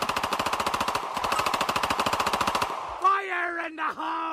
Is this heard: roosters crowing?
no